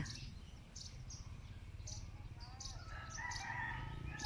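Roosters crow faintly in a rural garden, repeated calls heard at a distance over steady low background noise, with faint speech at times.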